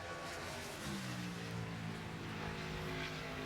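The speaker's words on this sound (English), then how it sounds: "That car really taking off in the middle of the corner." A NASCAR Nationwide race car's engine rises in pitch as it accelerates through a corner during qualifying at Dover, a distant, steady drone under broad crowd and track noise.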